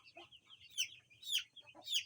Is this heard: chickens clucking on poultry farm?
yes